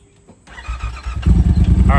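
A Yamaha RMAX side-by-side engine with an exhaust tip fitted cranks and fires, then settles into a loud, throbbing idle close by.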